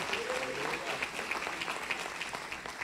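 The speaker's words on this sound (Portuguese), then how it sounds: "Aplaude a Deus, por isso aplaude." Congregation applauding during a Portuguese-language church worship service, a steady wash of clapping held at moderate distance throughout, with a voice present over it.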